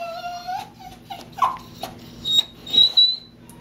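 A puppy whimpers and whines during a bath in short, high-pitched bursts, with some rustling and splashing between cries.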